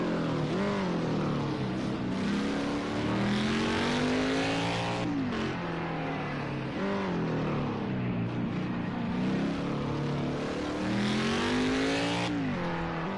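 Kart-style race cars circle a track at a Kern County championship event, engines droning and rising and falling steadily as they lap, one car's pitch sweeping past now and then, loud and continuous with no talk.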